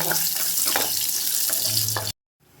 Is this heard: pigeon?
no